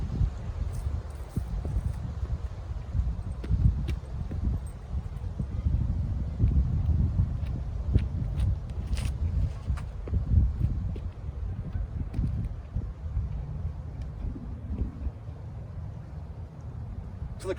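Strong wind blows across a disc golf course, a steady rough low rush and microphone buffeting that surges and eases throughout, with faint rustling and no voices.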